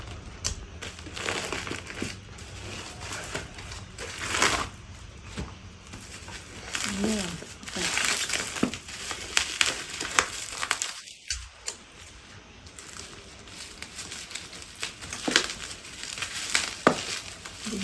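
Plastic delivery packaging crinkling and rustling in bursts as a parcel is unwrapped indoors, with a louder crushing crumple near the middle and quiet background sounds throughout.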